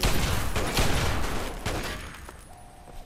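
Gunfire in the video game Fallout 3, a rapid volley of close, loud shots that thins out and tails off into quiet after about two seconds.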